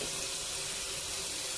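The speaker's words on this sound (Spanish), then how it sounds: "Lo primero que tenemos que hacer es enjuagarnos las manos con agua tibia." Warm water runs steadily from a bathroom tap as hands are rinsed under it, an even, close hiss and splash with no talking.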